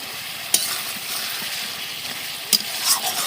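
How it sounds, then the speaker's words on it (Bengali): Mutton frying with spices in a pot, a steady close sizzle with occasional sharp clicks of a spatula stirring and knocking against the pan. "বারবার মাংসটা কষিয়ে নিই চলো"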